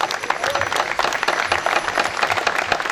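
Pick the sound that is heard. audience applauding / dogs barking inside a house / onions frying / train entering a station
audience applauding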